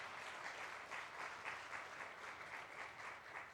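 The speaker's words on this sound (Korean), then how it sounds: "큰 박수 주시기 바랍니다." A church congregation applauds during an award ceremony for a Bible quiz, producing a steady, even crowd clapping that sounds faint and distant throughout.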